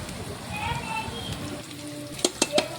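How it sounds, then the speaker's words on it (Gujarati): Onions sauté in a pan until browned for dal keema, making a constant crackling sizzle. A few crisp utensil taps ring out near the end, and a low voice is briefly heard. "હવે ડુંગળીને આપણે બરોબર સાતળી લઈશું એકદમ કલર ચેન્જ થઈ જશે બ્રાઉન થાય ત્યાં લગી તેને આપણે સાતળી લઈશું"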